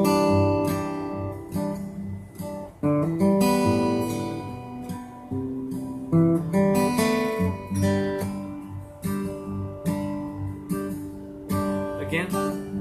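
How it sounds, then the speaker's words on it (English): An acoustic guitar plays a folk fingerpicked pattern mixed with rhythmic strums, close and bright, with steady plucked attacks throughout. "and it sounds like this now with the strumming"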